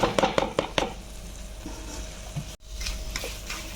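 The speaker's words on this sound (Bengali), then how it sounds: "ভালো করে নাড়িয়ে নিলাম" Prawn chop mixture with soy sauce and cornflour being stirred in a pan: a few quick scraping strokes up front, then a soft steady rustle with a brief gap before the stirring resumes, close and moderately quiet.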